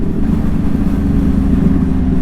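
Yamaha R1 sport motorcycle engine running with a steady, loud low rumble close by, no change in pitch.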